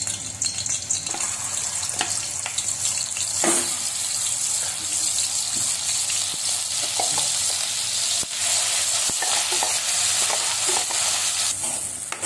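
Masala for a green egg curry with cashews, frying in fresh oil and stirred steadily, gives a continuous close sizzle with scraping spoon strokes and occasional clinks throughout, with no talking.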